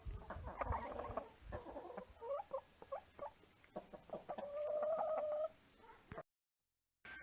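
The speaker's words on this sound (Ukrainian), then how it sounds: "на цьому хазяйстві Наташі такі курочки." Hens cluck and chatter in short bursts, then one draws out a longer squawking note before a brief pause.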